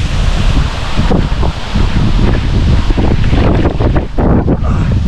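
Strong wind roars continuously across an open pond bank, a loud steady buffeting rush with gusty surges and no talk, during a stormy day of pike fishing.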